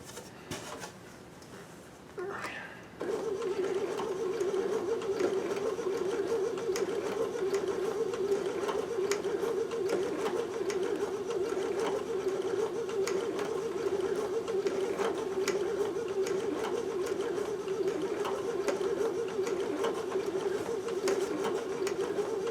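A Babylock Sashiko sewing machine stitches on knit fabric, a steady close mechanical whir with even rhythmic ticking that starts after a brief pause and runs continuously without talk.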